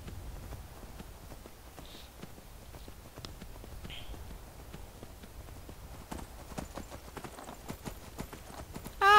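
Steady rhythmic hoofbeats of a horse galloping in the fantasy video game Skyrim, moderately loud and continuous throughout with soft ambient game sounds around them.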